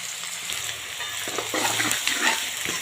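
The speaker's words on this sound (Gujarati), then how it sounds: "સાથે ડુંગળી નાખું છું।" Finely chopped onions sizzle and fry in a pan with green chilies for sev usal, a steady close crackling hiss with occasional stirring scrapes.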